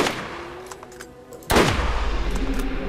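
Sniper rifle gunfire in the video game Borderlands: a single loud, sharp shot at mid-clip with a booming decay, preceded by faint scattered game noises.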